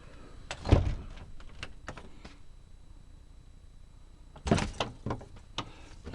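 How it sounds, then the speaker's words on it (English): A DIY greenhouse door on stainless steel hinges closing: a thud followed by a few light rattles and clicks, a quiet pause, then a second louder knock with further clattering, close by. "Then the door just closes like any other door."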